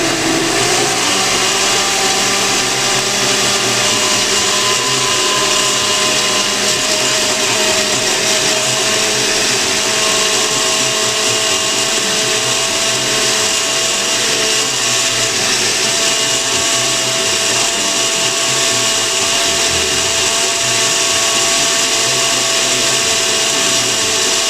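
Blender pureeing crustless pumpkin pie filling with spices and vanilla, a loud steady motor whine running continuously with a slightly shifting pitch, close up and uninterrupted with no talking.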